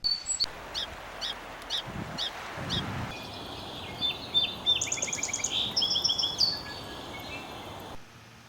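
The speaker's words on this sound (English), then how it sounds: "Song sparrow." A song sparrow sings in Washington, a run of bright, evenly spaced notes followed by high, rapid trills and buzzy phrases, clear and moderately near against faint background hiss.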